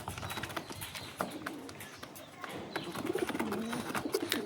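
Restless pigeons confined in a cage coo in low, soft bursts while their feet and wings scuffle and tap against the enclosure, with faint background voices.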